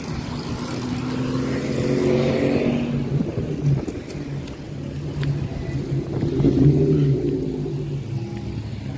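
A loud car engine roars past on a street, a deep rumble swelling and revving around the middle and again near the end, heard from the roadside with no talk.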